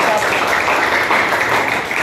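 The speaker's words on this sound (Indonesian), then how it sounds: "Oke, beri tepuk tangan yang meriah dulu untuk calon nomor" Lively audience applause for a student candidate at a school election, loud steady clapping throughout.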